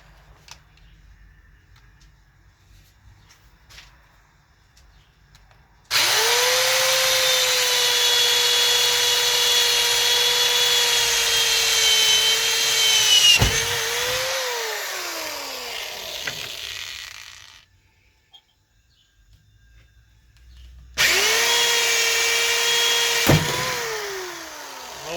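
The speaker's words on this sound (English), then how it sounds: "so you guys can see the process of me drilling" Power drill boring into a 2002 Kia during custom audio work, a steady high whine that runs for several seconds, sags and stops, then starts again briefly, close and loud.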